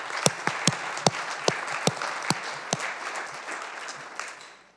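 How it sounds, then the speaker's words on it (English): An audience at an energy conference gives a modest round of applause, with a steady patter of clapping and several sharper individual claps standing out before it fades away. "So let's have a round of applause for those state officials."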